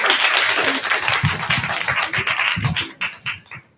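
A small audience in a university department talk claps, starting as a full patter of many hands and thinning into a few scattered, separate claps before fading out, with no speech over it.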